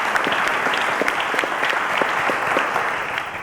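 A studio audience at a televised school quiz show applauds the contestants with steady, close, evenly sustained clapping that fades slightly at the end.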